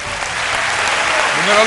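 An audience at an illusion show claps to welcome a volunteer on stage. The applause is loud, dense and sustained, with a voice briefly audible beneath it.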